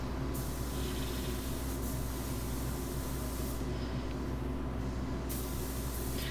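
A spray gun running at about 26 to 27 psi lays candy paint over a bare metal art sign, giving a constant loud airy hiss with brief breaks in the upper sharpness as the trigger eases.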